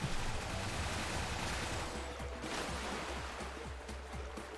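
Continuous loud rushing of a waterfall in the video game Earth Defense Force: World Brothers, a steady broadband roar with faint game thuds and pops scattered underneath.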